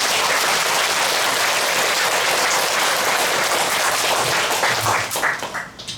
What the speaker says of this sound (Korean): 합창단을 위해서 다시 한번 우리 박수 칩시다.